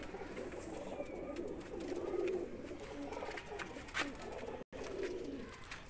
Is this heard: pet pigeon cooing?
yes